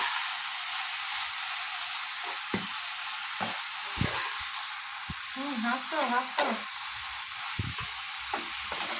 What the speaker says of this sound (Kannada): ಖಾರ ಹಾಕ್ಕೊಂಡು ಚೆಂದಾಗಿ ಒಂದು ಈ ಥರ ಫ್ರೈ ಮಾಡ್ಕೋಬೇಕು ನೋಡ್ರಿ